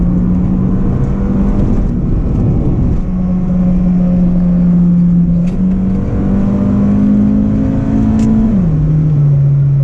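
An Acura RSX engine hums close by, its pitch climbing steadily into VTEC, stepping up and then dropping sharply as the gears change. No talking.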